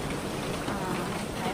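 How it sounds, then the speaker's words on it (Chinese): Steady rain hisses evenly throughout on a windy typhoon day in Taiwan, a dense, constant wash of falling water with no distinct drops standing out. "看到我后面在下雨。"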